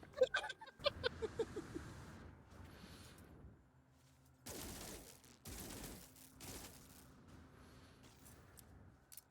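Rapid gunfire bursts in the video game No Man's Sky, a quick string of sharp shots at the start, then louder broadband blasts mid-clip over a low background hum.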